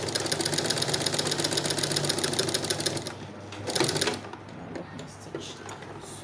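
A domestic sewing machine stitches a placket in a rapid, steady run for about three seconds, then stops, followed by a brief second burst and quieter handling sounds close by.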